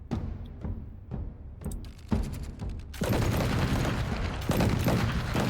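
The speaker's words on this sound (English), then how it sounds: "Arquebuses quickly form a line and unleash a salvo of gunfire into the battle mage ranks." Arquebus salvo in the video game Pillars of Eternity: scattered sharp shots at first, then from about three seconds a dense, continuous roar of massed gunfire with a loud burst near the end.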